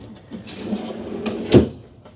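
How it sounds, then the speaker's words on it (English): A large kitchen drawer in a new Alliance Benchmark 42-foot destination RV slides open and shut, with a soft rolling glide followed by a single firm close near the end. "Then they put some large cabinets down here with another drawer that comes out."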